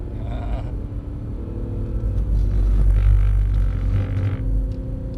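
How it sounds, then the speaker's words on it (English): Deep, loud tyre rumble from a Mercedes-Benz understeering across a low-grip track surface, a continuous droning roar that swells steadily through the middle and stays heavy to the end, with no voices. "That big rumble is what it does on this surface when it starts to understeer, when the tyre goes across the surface"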